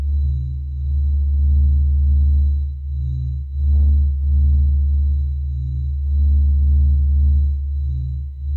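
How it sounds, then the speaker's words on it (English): A low, droning tone with steady hum and soft pulsing swells, a deep synthesized rumble rising and falling in slow waves, made by sonifying the sun. "Maybe we can listen to the sound of the sun."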